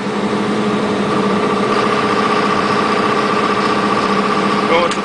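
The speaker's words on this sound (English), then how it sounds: "the pre-glow, which will last for 10 seconds before the engine starts" A portable air compressor's engine runs at a steady idle, a loud, even hum with strong tonal harmonics and no change in pitch over the span.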